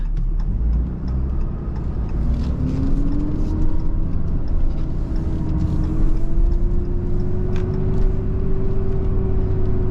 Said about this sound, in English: The turbos sound good.